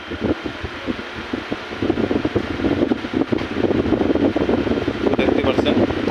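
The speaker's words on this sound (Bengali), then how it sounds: "তো আমরা এখন ফ্যানটিকে চালাবো, টেস্ট করব" A table fan converted from AC to DC and running off a battery, giving a steady whirring rush of moving air with buffeting wind noise on the microphone, loud and close.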